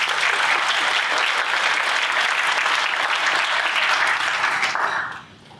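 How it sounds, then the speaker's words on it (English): An audience at a university alumni awards ceremony breaks into loud, sustained applause, a dense wash of many hands clapping that holds steady for several seconds and then fades out quickly at the end. "a round of applause for Jefferson Nino"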